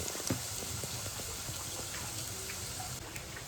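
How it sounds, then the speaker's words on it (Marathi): Onion frying in oil in a pan while a crab curry is cooked, a steady broadband sizzle with faint crackles and small pops running continuously throughout, close and moderately quiet with no voices. "कांदा इकडे तेलामध्ये भाजून घेते मी."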